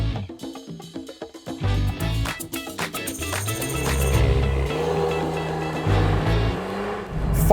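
A 2022 Volkswagen Golf R with a 2-litre EA888 turbo engine driving on Australian roads, its engine accelerating and revving loudly and steadily up close, with gear changes and no talk.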